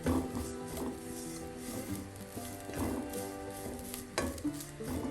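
Grated coconut and fennel seeds sautéing in a pan for a roasted-coconut tuna curry, a quiet steady sizzle under repeated rhythmic scrapes and knocks of a spoon stirring against the pan.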